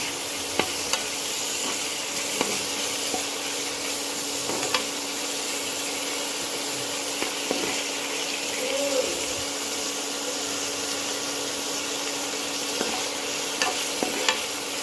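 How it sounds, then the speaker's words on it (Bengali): Boiled onion stalks frying in a pan with onion, tomato and garlic, a steady close sizzle with occasional scrapes and clicks of stirring, no talking. "সবকটাই একসাথে ভাজা ভাজা করে নিচ্ছি।"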